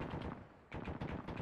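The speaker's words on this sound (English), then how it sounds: "We're on the corner of the compound shooting a vehicle." Rapid gunfire aimed at a vehicle in a military shooter game, a loud close burst of automatic shots, a brief pause, then another sustained volley.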